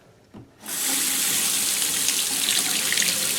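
A bathroom sink faucet turns on after a short knock and runs at full force, water spraying and splashing out unevenly in a steady, loud hiss with droplets flying.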